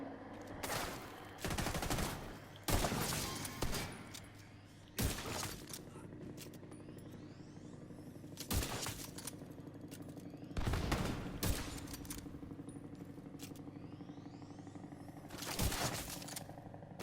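Sustained automatic gunfire from a minigun in The Division 2, heard as several long roaring bursts separated by short pauses, loud and close over faint background game noise.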